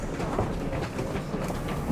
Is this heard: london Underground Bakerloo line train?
yes